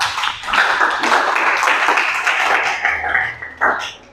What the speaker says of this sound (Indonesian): Tepuk tangan terlebih dahulu ya.